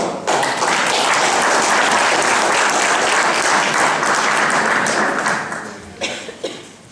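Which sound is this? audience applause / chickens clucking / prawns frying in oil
audience applause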